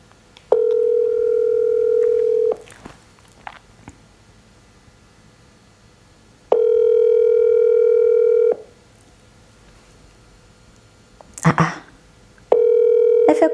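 A telephone ringback tone sounds while a call is placed, three long steady beeps separated by silent gaps, close and clear, with brief rustling handling noise between rings.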